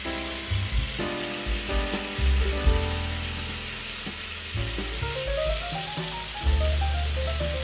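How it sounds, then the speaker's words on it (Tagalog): Pork ribs pan fry in hot oil, a close, steady sizzle and crackle with occasional spatters and scraping stirs of the meat in the pan. "so ipa-pan fry lang natin ng konti yung meat para lumabas yung lasa niya"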